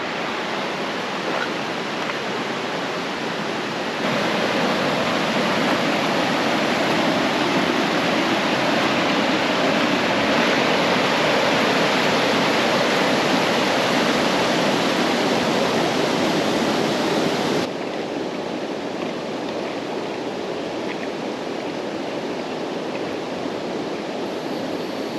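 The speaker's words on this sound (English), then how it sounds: "Check out this water feature." A water feature cascade in the Ozarks pours steadily with a dense, broadband rush that swells louder in the middle stretch and then settles back to a softer continuous flow, with no voices.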